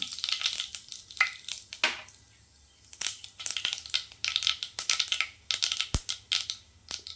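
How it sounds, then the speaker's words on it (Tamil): Mustard seeds and urad dal crackle and pop in hot oil, loud, close bursts of sharp spattering sizzles coming in rapid irregular clusters with brief quieter gaps. "எண்ணெய் காஞ்சிடுச்சு. கடுகு சேர்த்துக்கலாம். கடுகு, உளுத்தம் பருப்பு,"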